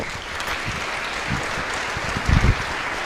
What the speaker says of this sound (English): Round of applause if you would.